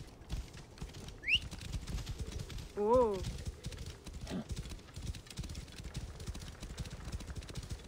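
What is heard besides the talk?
horse hoofbeats in video game Assassin's Creed Origins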